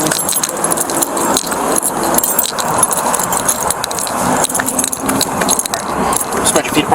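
Keys jangle and rattle while a car is being unlocked during a roadside traffic stop in Cape Coral, Florida, a steady metallic clatter carried under continuous outdoor noise and nearby voices talking.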